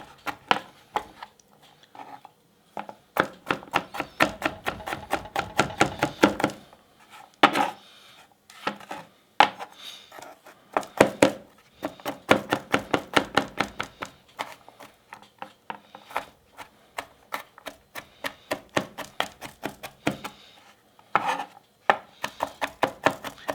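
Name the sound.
knife mincing garlic cloves on a wooden cutting board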